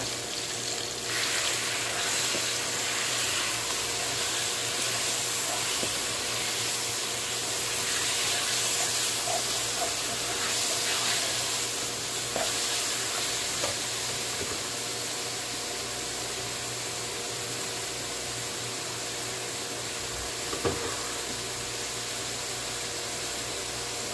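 Minced meat frying with onions in a pan for aloo qeema, a steady hiss of sizzling that is fuller in the first half and then settles lower, with a few faint stirring scrapes and no speech.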